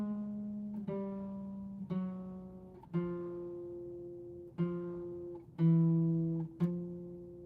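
Plucked strings sounding one note at a time as separate melodic voices, six clean attacks spaced about a second apart, each ringing and decaying quietly with no talk.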